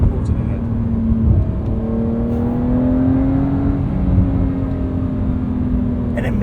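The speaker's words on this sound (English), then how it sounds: "this is more classic Porsche flat 6 howl" The flat-six engine of a 2025 Porsche 911 Carrera S with an 8-speed PDK drones from inside the cabin, its rising pitch audible as the car accelerates, loud and steady, with talk over it.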